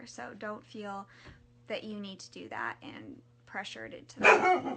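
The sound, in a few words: dog barking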